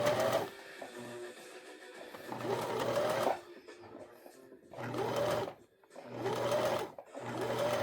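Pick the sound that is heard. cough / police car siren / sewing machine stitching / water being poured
sewing machine stitching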